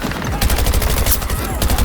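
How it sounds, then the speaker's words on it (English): Rapid bursts of gunfire from the video game Battlefield, played at max settings on a Lenovo Legion laptop, crackle dense and loud for the whole stretch with continuous overlapping shots. "Look at me just running into gunfire."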